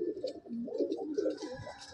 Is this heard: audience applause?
no